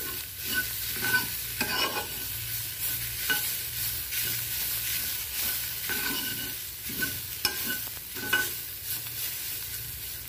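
A veg noodle cutlet mixture is stirred in a frying pan, a spatula scraping in repeated strokes over a soft, constant sizzle, close and clear with no talk.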